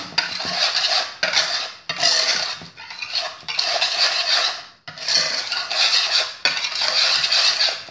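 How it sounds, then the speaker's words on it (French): A whisk beating crème brûlée batter in a bowl, brisk repeated metallic scraping strokes in bursts with short pauses between them, close and fairly loud, no speech. "on va mélanger avec un fouet"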